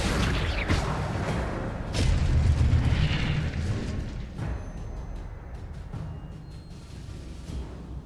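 Booming magical spell blasts in the Hogwarts Legacy video game, a run of loud dull explosions and bursts with a heavy rumble peaking around the middle, with no talk.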